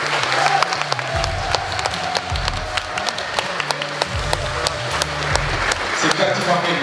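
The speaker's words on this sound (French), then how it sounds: "un tonnerre d'applaudissements pour tous les commandeurs TV" Audience applause at a large Warhammer 40,000 tournament in France, a steady patter of many hands running throughout beneath a loud amplified voice and music-like low tones.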